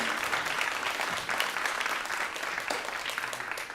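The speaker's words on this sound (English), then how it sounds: "Please give a big round of applause to Irene Villasenor, everybody." Audience applauding a poet being welcomed to the stage at a marathon poetry reading, a steady, fairly close wash of clapping that carries on evenly with no talk over it.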